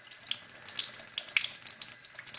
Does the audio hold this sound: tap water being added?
yes